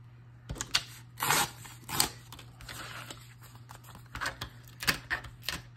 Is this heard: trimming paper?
yes